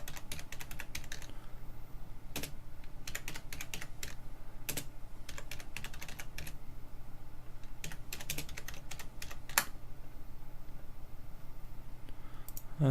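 Steady computer-keyboard typing with bursts of sharp key clicks and a few louder taps, close and clear over a low background hum, no talking.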